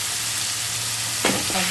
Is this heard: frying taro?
yes